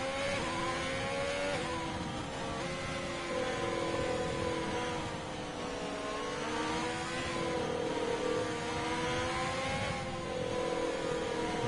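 A Formula 3 car in a racing video game at the Japanese Grand Prix drones with a loud, continuous engine whine, its pitch rising and falling gently as the car runs through corners.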